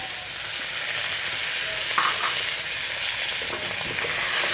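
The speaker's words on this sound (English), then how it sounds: "after this, we're going to add the potato" Potatoes frying in a pan for Kenyan stew, a steady loud sizzle with a faint scrape of stirring partway through, no voices.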